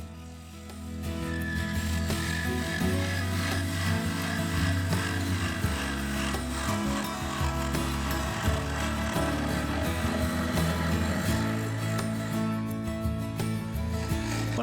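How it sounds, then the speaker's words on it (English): A gouge making push cuts from rim to base on a mahogany bowl spinning on a wood lathe, with a continuous close, loud scraping and rushing shave over the steady motor hum, lasting throughout without any talking. "I returned to just doing straightforward push cuts from the rim down into the base"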